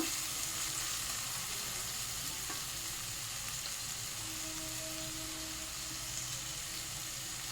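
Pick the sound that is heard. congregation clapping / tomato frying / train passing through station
tomato frying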